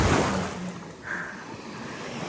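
Sea waves wash and surge close by with steady wind noise on the microphone, a broad rolling rush that swells and eases, with no talking.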